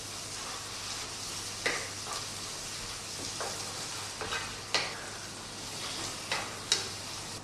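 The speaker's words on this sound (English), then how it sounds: "I'm going to put 1 heaped teaspoon of paprika in our sauce and stir that through and let that cook out for a minute or so" Heaped teaspoon of paprika stirred through a simmering tikka masala curry sauce, with a steady soft sizzle and frying hiss under repeated scraping strokes of a spoon against the pan.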